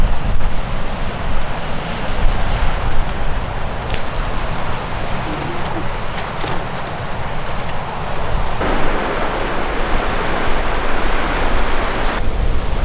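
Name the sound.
sea waves on the shore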